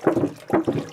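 Bleach sanitizing solution poured out of a container in two quick splashing gushes, close and fairly loud, with no talking.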